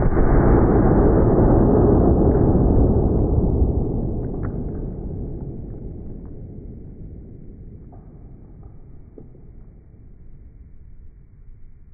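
A single massive boom from a 72 caliber Zeus air rifle fired at a torso target, fading slowly into a long, low rumble with faint clicks and rustles afterward.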